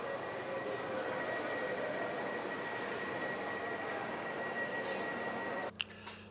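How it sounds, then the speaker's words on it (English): A train rides from Groningen toward Veendam on the last service of the night, giving a steady, even rumble and hiss from inside the carriage, with a brief clunk near the end. "I am on the very last train, and this goes to Veendam"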